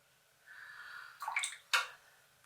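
A watercolour paintbrush swished and rinsed in a water pot, soft splashy sloshing with two sharper agitated bursts near the end, close and fairly quiet with no talking.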